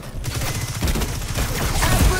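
Rapid burst of shotgun fire in Destiny 2, a dense cluster of loud overlapping blasts packed into about two seconds, with faint voice underneath.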